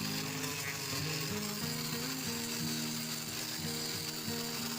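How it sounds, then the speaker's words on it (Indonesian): A hand grinder fitted with a cloth polishing wheel runs against stainless steel, giving a steady whirring drone with a repeating low pulsing rhythm, alone and fairly faint. "mata gerinda kain polesnya kita singgungkan lagi ke bagian bahan langsol tersebut"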